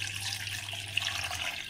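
Leftover dal water poured into a kofta mixture in a home kitchen: a soft, continuous trickle of liquid, faint and steady, with a low hum underneath and no talking.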